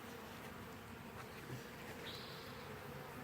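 A honeybee swarm being hived gives off a dense, even buzzing that holds steady throughout, with single bees droning past close by now and then.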